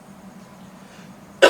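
A single sudden, loud cough bursts out after a stretch of quiet room tone, from someone speaking about inventing things.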